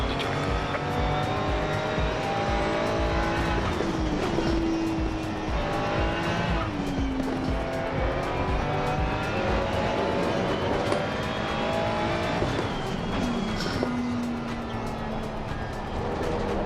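Racing car engines roaring and whining through gear changes, with repeated tire squeals, in the Gran Turismo racing game, loud and continuous with no talking.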